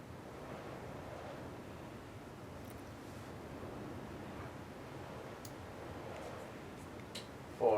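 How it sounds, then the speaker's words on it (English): Strong wind blowing outside, a steady faint rushing wash with a few light ticks, heard alone with a brief louder gust at the very end. "Still very windy outside."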